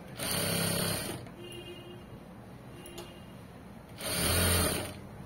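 A sewing machine runs in two loud, steady bursts, the first about a second long and the second near the end, with a quiet pause between them while fabric is stitched in a straight line.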